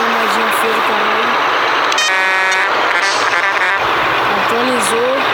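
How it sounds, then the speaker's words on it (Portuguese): Truck horn in the Grand Truck Simulator game, sounding as brief synthetic honks around two to four seconds in, with someone talking over much of the clip. "Essa buzina é mais feia do mundo."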